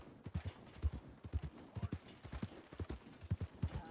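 Horse hooves from the Red Dead Redemption video game, a steady, quick clip-clop of a trotting horse, soft but distinct, lasting a few seconds with no talk.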